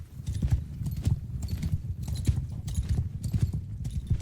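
A horse galloping in the video game Mount & Blade 2 Bannerlord, with steady rhythmic clip-clop hoofbeats repeating close by at an even pace.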